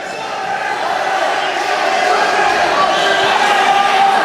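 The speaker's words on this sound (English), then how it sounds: "And the crowd is going wild." A steady, loud wash of crowd noise cheers through an MMA fight between Martin Chester and Dave Toole, sustained without a break and slowly swelling, with no voices standing out.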